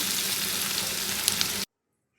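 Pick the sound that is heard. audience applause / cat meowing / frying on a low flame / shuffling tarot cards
frying on a low flame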